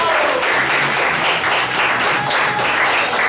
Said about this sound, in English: Give a round of applause, Pablo.